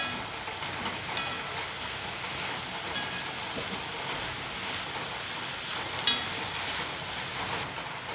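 Taro leaf thoran being stirred in a pan gives a soft, steady sizzling hiss with a couple of light spoon clicks, close by and with no talking.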